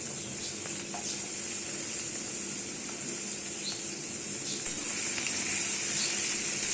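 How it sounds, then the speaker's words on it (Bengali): Potato pieces fry in oil in a pan together with eggplant, giving a continuous bright crackling sizzle, steady and fairly loud, with a faint scrape of stirring and no talking. "তো এরপরে আমি আলুটা দিয়ে দিচ্ছি, ওর মধ্যেই ভেজে নেবো, আলাদা করে আর ভাজছি না।"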